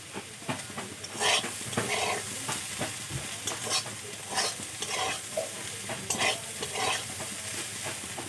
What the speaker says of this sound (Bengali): ডুমুর ভালো করে লাল লাল করে ভেজে নেব।